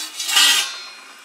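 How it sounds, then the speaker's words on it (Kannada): Two metal plates are set down into a pot of steaming water while a cake is being made. There is a short bright clatter of metal on metal, close and alone, that fades quickly. "ನೋಡಿ ಇದರಲ್ಲಿ ಈಗ ಎರಡು ತಟ್ಟೆ ಇಟ್ಟಿದ್ದೀನಿ"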